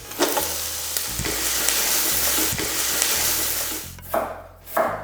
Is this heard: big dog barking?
no